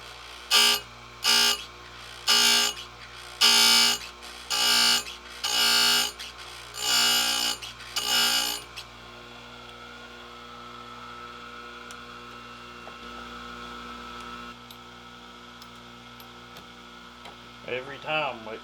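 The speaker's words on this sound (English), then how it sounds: "let's grind a couple more up close." Tecomec Joly Evo chain grinder sharpening a chainsaw chain up close: seven or eight loud, evenly spaced grinding bursts in a regular rhythm, followed by a low steady motor hum and a few faint clicks.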